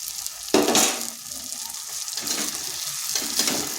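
Ground spice masala of cumin, coriander and chili powder frying in oil for an aloo fulkopi curry, a close steady sizzle broken by a few louder bursts of stirring and scraping against the pan.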